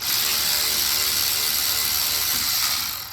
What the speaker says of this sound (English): I always use the manual ratchet to break them loose, then I use the cordless.